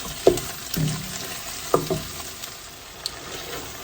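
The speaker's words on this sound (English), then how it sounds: "We'll cook this until the tomatoes get nice and tender." Chopped tomatoes cooking in oil for mutton biryani, with a soft steady sizzle and a few sharp stirring scrapes and clinks of a spoon against the pan.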